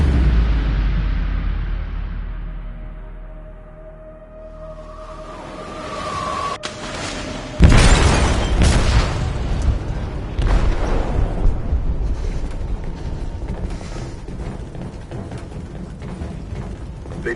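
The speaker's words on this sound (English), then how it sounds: "They detonated an explosive in the hold." A game explosive detonates in a ship's hold in Detroit: Become Human, a sudden loud boom midway that rolls into a long, churning rumble of creaking metal and mechanical grinding, with quieter machinery hum before the blast.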